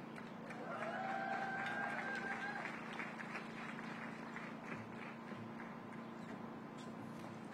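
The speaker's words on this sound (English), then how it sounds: "a huge round of applause" An audience at an outdoor mayoral announcement in Washington claps steadily, a dense even patter that stays moderate for several seconds.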